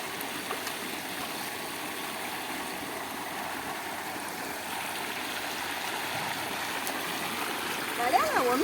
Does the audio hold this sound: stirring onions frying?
no